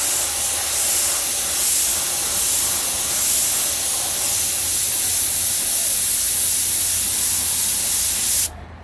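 An airbrush sprays paint onto a portrait in a continuous close, loud hiss with slight swells, cutting off abruptly near the end.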